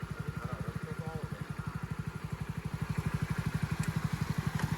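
A motorcycle engine putters in a fast, even rhythm, running steadily and close on a rough, rain-damaged Girnar Parikrama route, growing slightly louder toward the end.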